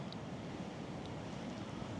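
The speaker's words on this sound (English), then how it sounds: "Hopefully you can hear the waves." Sea surf rolling onto the shore at Polly Joke beach, a steady broad wash of wave noise with wind buffeting the microphone, continuous and fairly distant, with no talking.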